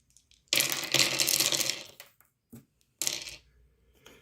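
Dice rattling and tumbling in an APBA baseball board game, a loud clattering roll lasting about a second and a half, a short tap, then a second brief rattle, with no talking.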